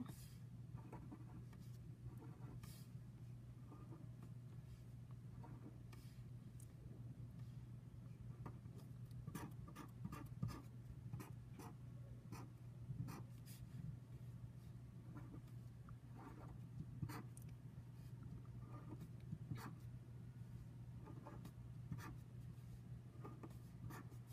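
Faint pen strokes and taps on paper while drawing a dot plot for a statistics lesson, with quiet scattered scratches and dot marks over a low steady hum.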